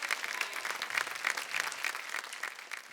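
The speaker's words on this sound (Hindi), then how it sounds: "जोरदार तालियां हो जाएं अनीता जी के लिए।" Steady, dense applause from a studio audience at a folk singing reality show, sustained and fairly even throughout with no voices over it.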